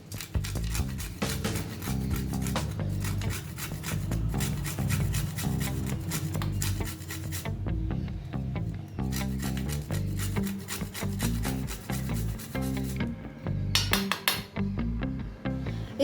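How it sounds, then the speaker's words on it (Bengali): Whole nutmeg grated over dry-roasted spices for a Bengali fish curry, a close, steady run of quick rasping strokes with brief pauses between them. "এর মধ্যে আমি অ্যাড করে দেবো হাফ জয়িত্রী ফুল আর সামান্য একটুখানি জায়ফল গ্রেট করে আমি এতে অ্যাড করে দেবো।"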